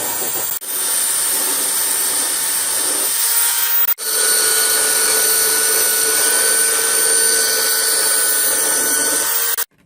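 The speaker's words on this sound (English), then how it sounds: "So with a belt sander, it makes a straighter edge." A belt sander grinding a straighter edge along a cut van window opening, a loud steady high whine running nearly the whole time with two brief breaks.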